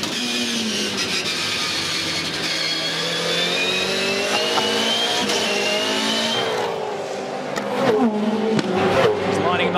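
A V8 Supercar howls around the Tasmania 400 circuit during a 2014 race, its loud, steady engine note holding and then shifting as it brakes and changes gear, with race commentary talking over it.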